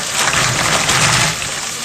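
Pasta drops into a pot of salted boiling water, giving a close hissing, bubbling wash of water that fades slightly toward the end.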